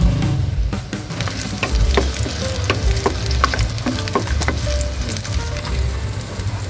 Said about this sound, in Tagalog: Magigisa lang tayo guys ng sibuyas.